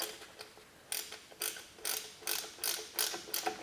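A hand ratchet with an 11mm socket works on rear drum brake wheel cylinder bolts of an S10 Sonoma Blazer, giving several quick, close rasping clicks in short bursts with brief pauses between.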